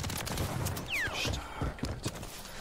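Rapid SMG gunfire spraying during a Warzone 3 match, dense bursts of shots running through the whole stretch amid game effects, with voices talking over it.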